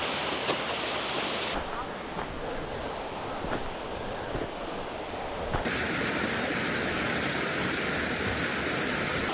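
Constant rushing water fills the scene, a broad close hiss of a flowing stream that swells louder partway through, with no voices.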